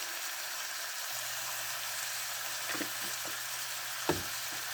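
Chicken wings sizzle and fry in a pan, a steady soft hiss with a low hum beneath and a few scraping clicks as the pieces are turned, including one sharper knock near the end.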